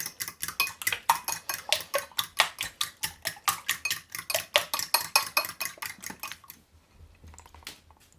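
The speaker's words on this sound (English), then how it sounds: "I'm just going to whisk the cream into the eggs." A whisk beating cream into eggs in a bowl for a meatloaf mix, clattering in a fast steady rhythm of sharp metallic strokes for several seconds before stopping, followed by a few faint taps.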